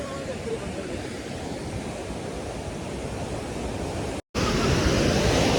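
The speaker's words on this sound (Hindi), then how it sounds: "तो गाइस नदी का फ्लो ना बढ़ता ही जा रहा है" A flooded river in Kullu-Manali rushes past with a steady, loud roar of turbulent water that fills the whole clip, broken only by a brief dropout near the end.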